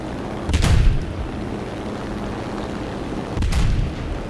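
Two heavy 75mm cannon shots from a Ki-109 aircraft in the War Thunder combat game, spaced about three seconds apart, each a loud booming blast with a short decay over steady engine drone.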